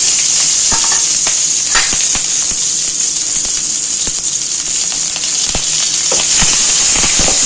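Crushed garlic, onion and curry leaves frying in hot oil with mustard seeds for a bottle gourd and lentil kootu, a loud continuous sizzle close by, dotted with sharp pops and spatters, no voices.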